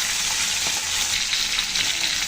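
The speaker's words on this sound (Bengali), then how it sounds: "মাছের এই একটা এখন ভালো করে ভেজে নেব" Tilapia pieces fry in hot oil in a home kitchen. A loud, dense, continuous sizzle is heard up close, with no talk.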